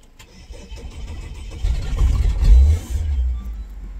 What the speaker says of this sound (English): now we should have an AU Falcon that wants to start up.